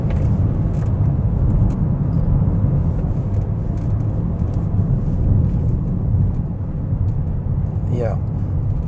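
Citroën eC4 driving on a road, a constant close rumble of road and cabin noise that holds steady throughout, with someone talking over it.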